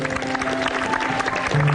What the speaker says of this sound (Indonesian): Pinter kamu, ya tepuk tangan ya.